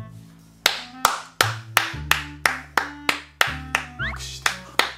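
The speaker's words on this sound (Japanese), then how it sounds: "拍手して" About a dozen sharp, close hand claps land at a loose, uneven rhythm, each one ringing out briefly over sustained background music tones.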